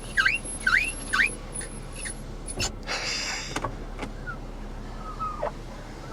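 A rear electric power window on a Mercedes W202 C280 runs with a noticeably noisy motor: three quick rising whirs up front, then longer grinding runs and a soft thunk, all close and fairly quiet.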